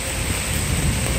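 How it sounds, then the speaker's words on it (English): Steady, dense hiss of heavy rain pouring down during a severe thunderstorm in New York City, broadband and unbroken for the whole short stretch. "the rain just started coming down"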